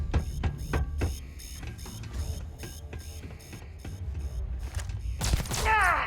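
Rapid gunfire bursts in the video game Starfield during a cyberpunk sabotage mission, sharp repeated shots with ringing tonal game effects and a rising synthetic sweep near the end.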